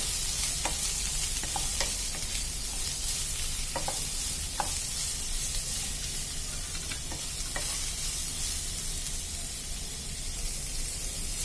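Steady sizzling of onions frying in coconut oil, with occasional stirring clicks from a utensil against the pan, continuous and close.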